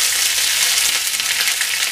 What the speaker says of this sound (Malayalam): ഒരു ചെറിയ ടീസ്പൂൺ കടുക് ഇടുക കടുക് പൊട്ടിക്കഴിയുമ്പോൾ നമുക്ക് കറിവേപ്പില ഇടാം